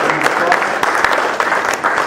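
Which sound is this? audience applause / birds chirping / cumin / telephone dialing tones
audience applause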